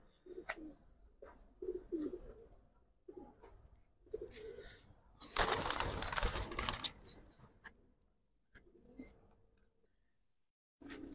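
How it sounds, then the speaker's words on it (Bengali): Young pigeons coo softly in short, repeated low calls, with a loud burst of rustling or wing flutter in the middle and quiet gaps between calls. "অনেক উঠতি কবুতর ভাই"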